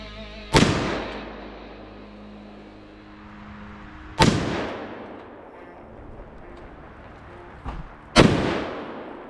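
Three loud, sharp .450 caliber gunshots strike a cast iron Peerless 2300 transmission case, spaced several seconds apart, each a hard crack with a ringing, fading tail.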